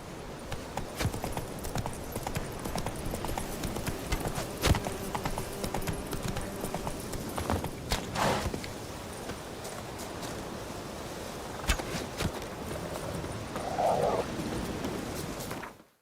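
Hooves clip-clop in a steady walking rhythm as the horse Roach moves along in The Witcher 3, set among Skellige surroundings. The footfalls are close and moderately loud over a faint ambient game background.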